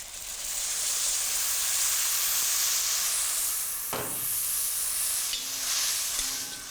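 Tomato puree of about two tomatoes poured into a hot pan of spices for chicken jalfrezi, giving a steady loud sizzle throughout, with a brief splash and stirring scrapes partway through.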